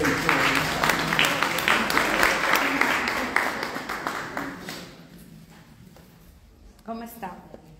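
An audience at a Lectio Divina gathering breaks into applause, dense clapping that fades after a few seconds and gives way to quieter room sound, with voices speaking over and after it.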